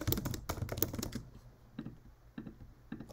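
Quick bursts of typing on a computer keyboard while entering a heading into a spreadsheet, a dense run of close clicks and then a few sparse separate keystrokes.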